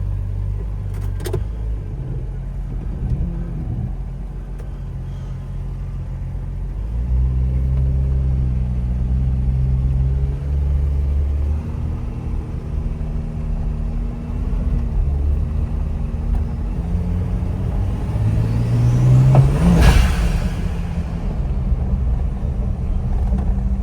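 A turbocharged 4.7-litre stroker Jeep Wrangler Rubicon drives under light throttle, with a steady low engine rumble from inside the cabin that rises in a few gentle surges, the loudest swell near the end.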